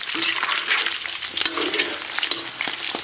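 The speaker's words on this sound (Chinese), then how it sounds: "咱们先把五花简单的给它煸炒一下，煸炒出油脂。" Pork belly stir-frying in a pot as its fat renders, a steady loud sizzle with scraping stirs and occasional clicks of the utensil against the pot.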